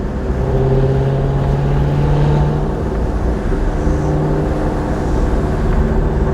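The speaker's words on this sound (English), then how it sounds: "Forgot his car is so freaking loud." A loud car engine roars steadily and close by, its deep rumble holding a sustained drone throughout with no voices.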